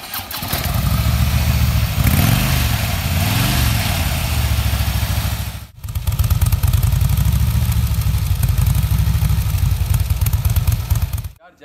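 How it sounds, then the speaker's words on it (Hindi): A Harley-Davidson Fat Boy with dual exhaust rumbles loudly up close, idling with a deep lumpy beat, blipping revs, briefly cutting out, then settling back into a steady throaty idle. "आपको इस बाइक की हम साउंड सुनाएंगे कि इसकी साउंड कैसी है।"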